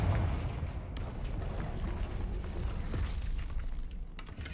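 Fire spell blast from the video game Hogwarts Legacy, a faint low rumbling burst with crackling debris that trails off in the background.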